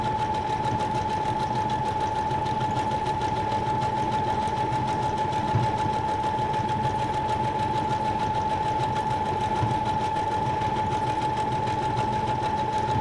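Sewing machine stitching paper ephemera for a junk journal, giving a steady, continuous mechanical whir with a constant hum throughout, close and fairly quiet with no voices.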